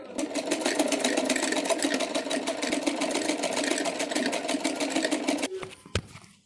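A sewing machine runs a fast, steady stitching burr along the edge of a suit, close and continuous for several seconds before stopping with a small clack.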